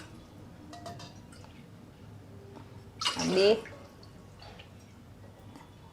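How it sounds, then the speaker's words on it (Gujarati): A short burst of water poured into a bowl, splashing briefly, with quiet speech around it. "એવડી જ વાટકી બીજી લીધી છે એટલે એ પ્રમાણે આમાં પાણી મૂકવાનું છે"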